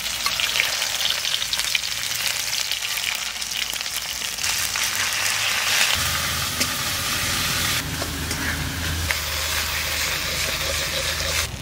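Onion, ginger and garlic frying in hot oil, a loud dense continuous sizzle close up, with occasional stirring and a low background hum shifting partway through.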